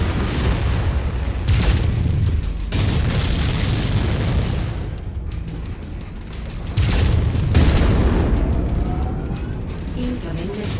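Loud booming explosions from an incoming missile strike in a video game, heavy low rumble bursts repeating across the clip with a voice talking over the din.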